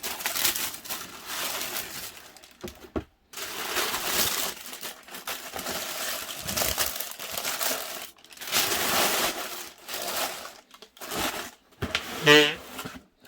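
Tissue paper rustling and crinkling while a pair of Adidas Yeezy Boost 350 V2 sneakers in black and red is unboxed, close and steady in bursts, with brief pauses and a sharper crackle near the end.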